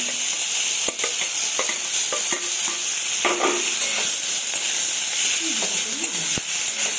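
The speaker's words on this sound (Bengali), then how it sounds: "এবার রসুনটা হালকা লাল লাল ব্রাউন কালার হয়ে গেলে শাকটা ঢেলে দিলাম" Bathua greens are tipped into garlic browned in hot oil, raising a loud, steady sizzle with stirring scrapes, while a voice talks over it.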